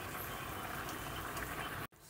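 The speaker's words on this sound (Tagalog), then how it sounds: "kumukulo na po yung ating adobong atay ng manok" Chicken liver adobo boils in a pan with continuous, even bubbling and sizzle, broken by a brief dropout near the end before it resumes.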